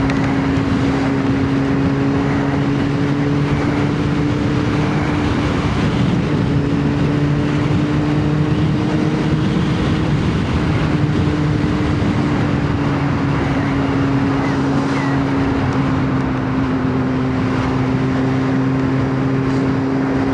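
A Kawasaki ZX9R motorcycle cruising along the M5 motorway, its engine holding a steady, unbroken drone beneath constant wind rush for the whole stretch, with no voices.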